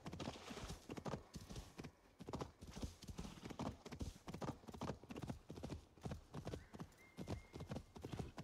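Steady rhythmic hoofbeats of a galloping horse in the video game Assassin's Creed Valhalla, loud and close, pounding continuously throughout.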